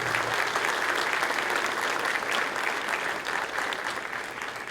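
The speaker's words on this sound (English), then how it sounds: "A round of applause for law enforcement." Dense audience applause for law enforcement at a high school dedication ceremony, a steady wash of many clapping hands that holds strong, then gradually thins and softens toward the close.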